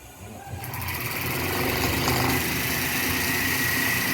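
A motorcycle engine runs steadily at a fast, buzzing speed, close and continuous with no pause, in a school workshop lesson on motorcycle repair.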